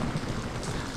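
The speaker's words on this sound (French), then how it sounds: "La pluie, alhamdoulilah. Une vraie bénédiction." Heavy rain pours steadily during a cold early-morning thunderstorm at 5 a.m. in Sidi Bel Abbès, a dense, even hiss of rainfall with no pauses and no voices.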